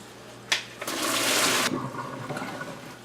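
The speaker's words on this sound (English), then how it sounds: "I'm going to go right underneath the camera and strain them through the strainer right here." Pearl onions drained through a kitchen strainer, a brief splash followed by a steady rush of water pouring out for about a second, then trailing drips and trickles, close by with no voices.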